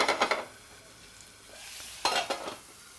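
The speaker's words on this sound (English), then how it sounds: "And they're just stir frying this." Vegetables stir-fry in a small pan with cooking chopsticks, giving bursts of scraping and clattering stir strokes over a soft sizzle, with a pause between two clusters of strokes.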